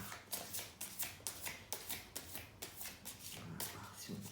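Oracle cards shuffled by hand, a quick run of crisp riffling bursts repeating at an even rhythm, close and fairly soft.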